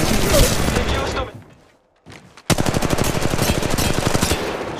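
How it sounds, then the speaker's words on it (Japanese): Gunfire from the battle royale game Apex Legends Mobile: loud sustained automatic bursts, a brief near-silent gap, then a rapid, evenly spaced machine-gun stream that runs to the end. "射撃中。"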